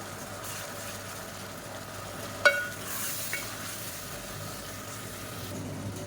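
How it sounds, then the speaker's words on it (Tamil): Onions with ginger garlic paste sautéing in a pan, a soft steady sizzle with a sharp clink of a spoon against the pan partway through and some light stirring scrapes. "இஞ்சி பூண்டு பேஸ்ட்டை சேர்த்துக்கலாம் இது நல்லா வதங்கட்டும்"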